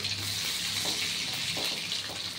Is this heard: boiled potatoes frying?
yes